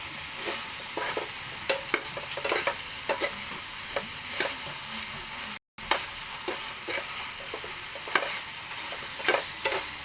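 Chicken BBQ frying in a pan while being stirred: a steady close sizzle with repeated scraping strokes, broken by a brief drop to silence midway, with no voices.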